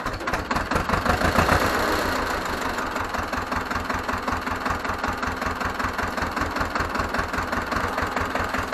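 An Ursus C-325 tractor engine starts with a loud rumbling surge, then settles into a steady, close, chugging idle with an even rhythmic knock.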